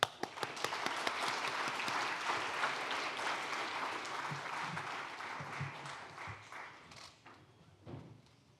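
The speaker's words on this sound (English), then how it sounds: "please welcome him with a big round of applause" An audience at an international central bank conference opening session breaks into sustained applause, dense clapping that fills the room, then thins and fades out toward the end, with a few thumps near the close.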